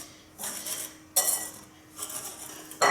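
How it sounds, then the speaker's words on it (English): A utensil scrapes and clinks against a bowl in bursts, mixing corn dog batter of flour, baking powder, black pepper and sugar; close, brisk strokes separated by short pauses, with no voices. "Put this all into a bowl at once"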